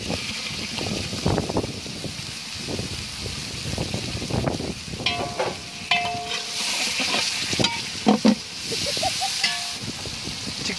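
Ginger garlic paste fries for biryani in a pan, with a steady broadband sizzle under repeated scraping stirs and clinks of a spoon against the metal pot, close and moderately loud, with no one talking.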